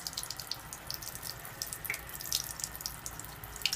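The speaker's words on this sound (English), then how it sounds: "This is acidic water." Acidic water runs from the spout of a KYK 66000 water ionizer into a sink, a steady close splashing stream with small irregular drips and spatters over a low hum.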